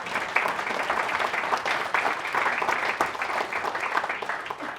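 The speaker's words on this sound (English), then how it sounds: "Let's have a round of applause for that." Steady round of applause from an audience, a sustained wash of many hands clapping at even loudness throughout.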